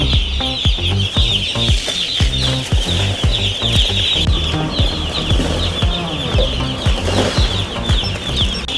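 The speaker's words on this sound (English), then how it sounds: "this is the way to dump out a mass volume of chicks" A mass of chicks cheeps nonstop on a chicken farm as they are dumped out by the crate, shrill peeping layered over loud thuds, rustling and clattering handling noise, all close and busy.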